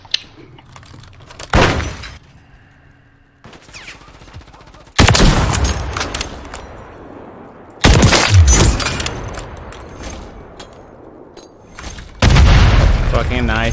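Grenade explosions and gunfire in Call of Duty MW3 multiplayer, with loud broadband booms hitting around 1.5, 5, 8 and 12 seconds amid rumbling battle noise.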